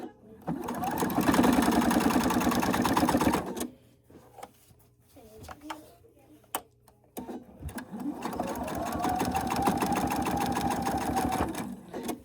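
A sewing machine stitches back and forth over a folded quilt edge for a Helpful Heifer small fold-and-store project, running in two long, loud bursts separated by a quieter pause with brief clicks and handling noises.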